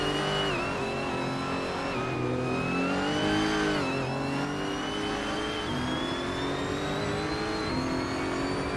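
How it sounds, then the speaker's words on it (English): AI-driven race cars in a video game race rev and accelerate, engine pitch climbing and dropping through gear changes, one car close and loud over continuous engine drone, with no voices. "Hope you're ready for some exciting AI car races."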